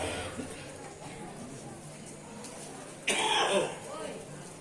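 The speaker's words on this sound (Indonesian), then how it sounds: "kalau saya di sela-sela bicara ada diselingi batuk" A single sharp cough breaks through quiet room noise, brief and fairly close, with faint background murmur before and after.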